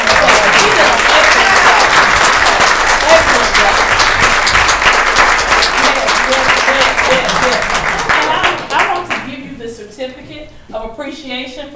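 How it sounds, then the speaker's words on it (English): Applause at a county board of commissioners business meeting, a dense burst of many hands clapping at once that holds steady for several seconds, then thins into scattered claps and fades, with a voice speaking over the tail end. "let's give her another round of applause"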